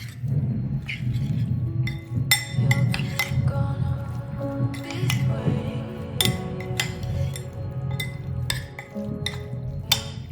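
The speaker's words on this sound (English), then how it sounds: "Now mix everything well, making sure the shrimp is evenly coated with the spices" Shrimp are tossed with spices in a bowl, producing soft wet squishes and scattered clinks of utensil on the dish over a low steady hum, close and moderately quiet.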